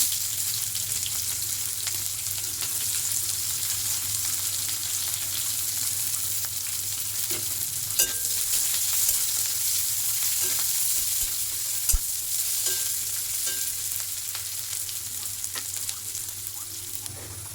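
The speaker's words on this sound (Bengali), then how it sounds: "পেঁয়াজটা ভাজা হয়ে গেছে" Chopped onions sizzle in hot oil in a pan with cumin and a bay leaf, a loud, even, continuous frying hiss close up, broken by a couple of sharp utensil clicks and occasional stirring.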